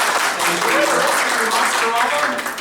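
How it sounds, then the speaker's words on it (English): A convention panel audience claps steadily for the full stretch at a Monsterama Star Trek panel, a dense, even patter sitting beneath a voice speaking over it. "Round of applause for"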